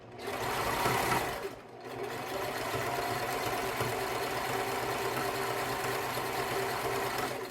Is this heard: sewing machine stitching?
yes